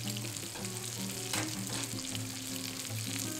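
Shiitake mushroom pancake with meat frying in a pan over medium to medium-low heat until golden brown, giving a steady, even sizzle and crackle throughout with no talking.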